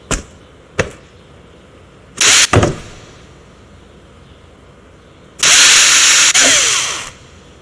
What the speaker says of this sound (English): we will drill the holes just as before